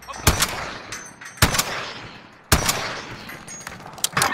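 Gunfire in Call of Duty Warzone: three sharp, loud shots at roughly one-second intervals, each trailing off into a long echoing tail, with scattered smaller pops and faint distant firing between them.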